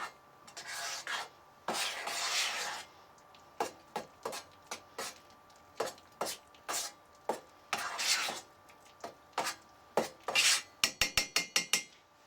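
Instant Idahoan baby mashed potatoes being stirred in an insulated dish with boiling water, heard as repeated short scraping and rubbing strokes, some longer rasps, then a quick flurry of taps at the end, with no talking.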